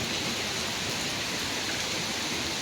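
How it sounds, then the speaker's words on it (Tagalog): Heavy rain pouring down hard enough to flood a park, a dense, even hiss of downpour hitting surfaces, constant and close with no talking. "Grabe lakas ng ulan."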